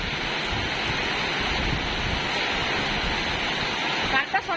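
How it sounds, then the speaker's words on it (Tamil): Strong wind roars through heavy Chennai rain, a dense, constant rushing noise up close, with someone talking over it near the end. "என்ன இப்படி காத்து அடிக்குது பேய் காத்து சொல்லுவாங்களே"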